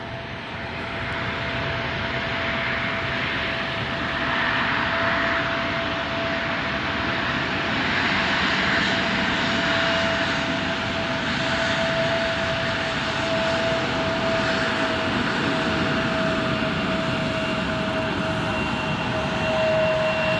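Embraer jet engines produce a loud, continuous roar and steady whine close by at an airport, sustained throughout without a break.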